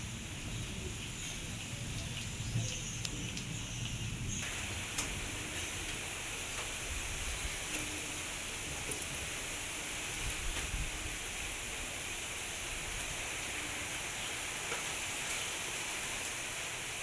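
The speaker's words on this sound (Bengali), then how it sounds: "দেখো হাওয়া হচ্ছে, মেঘ ঝিলকাচ্ছে, আর এই হচ্ছে বৃষ্টি পড়ছে।" Light drizzle falling outdoors on a breezy day, a steady soft hiss of rain and wind that holds evenly throughout at low level, with no voices.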